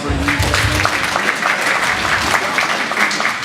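Crowd applause at a county FFA livestock show for the third place ewe exhibitor, sustained dense clapping from a sizable audience, steady and fairly loud throughout.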